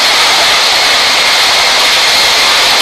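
Jet airliner taking off in the Real Flight Simulator game, a loud, steady roar of engines filling the whole stretch without a break.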